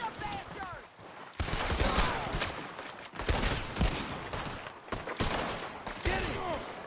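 Dense, rapid gunfire from a shootout in the video game Red Dead Redemption 2, with overlapping shots and volleys that keep going loudly and in bursts throughout.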